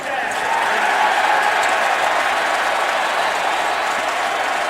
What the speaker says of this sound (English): And finally something for these fans to cheer for.